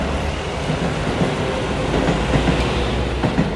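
A train passes through Daitabashi station, a steady loud rumble of rolling wheels with faint rhythmic clacks running throughout.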